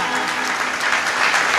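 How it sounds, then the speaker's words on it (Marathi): Sustained, dense applause from an audience at a Marathi comedy kirtan, steady and fairly loud throughout with no break. "टाळ्या वाजवा."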